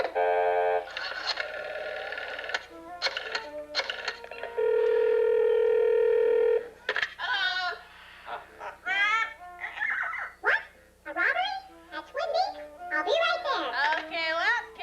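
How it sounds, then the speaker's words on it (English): Telephone dialing with a steady dial tone held for a couple of seconds, followed by bright chirpy voices; the tones are clear and fairly loud, with talk before and after. "Let's use this phone right over here, and I'll dial for you."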